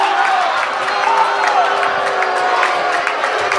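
A home crowd at a Salem high school boys basketball game reacts to a foul call with a sustained, moderately loud murmur of voices and scattered shouts.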